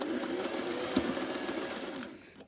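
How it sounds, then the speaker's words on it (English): Domestic sewing machine stitching slowly around a fabric bunny body, a steady close mechanical whir with fine rapid stitch ticks that runs for about two seconds, then stops and leaves near silence. "So just slowly sewing around."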